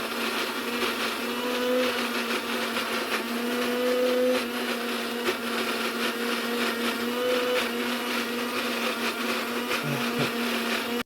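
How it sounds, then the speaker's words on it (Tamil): A kitchen mixer grinder grinds soaked green gram into batter with a loud, steady, high whirring that runs unbroken for several seconds and cuts off abruptly at the end, with no one speaking. "அதையும் நம்ம வந்து மிக்சியில் போட்டு ஆட்டிக்கிடுவோம்"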